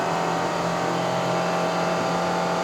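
A 2022 Perodua Myvi 1.5 AV engine pulls hard up the Genting climb in Malaysia, a loud, steady drone with road and wind roar that holds without a break.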